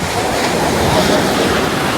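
Sea waves wash continuously onto Calangute Beach in Goa, a loud, steady roar of surf with some wind rumble and no pauses.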